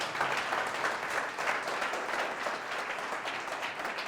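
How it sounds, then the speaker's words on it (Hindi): Steady applause from a church audience, dense and even, heard at a moderate distance with no talking. "जोर से ताली बजाएंगे प्रभु के लिए।"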